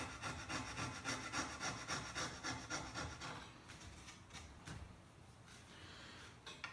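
A saw blade used as a file rasps back and forth on MDF base molding during coping, close rhythmic scraping strokes that are steady at first, then slower and more irregular.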